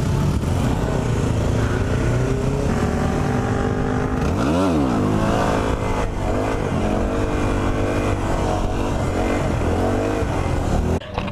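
Suzuki Gixxer sportbike engine revs loudly and up close over a steady motor drone, with one sharp rising-and-falling rev burst midway and several smaller throttle blips afterward.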